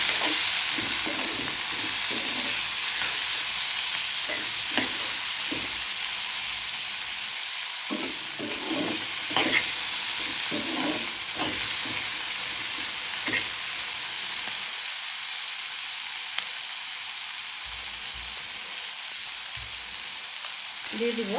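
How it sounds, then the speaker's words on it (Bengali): Spinach and onion frying in a pan with turmeric, a steady close sizzle running throughout with occasional stirring scrapes, no talking. "বেশি ভাজলাম না, পেঁয়াজটা একটু কাঁচা কাঁচা থাকবে।"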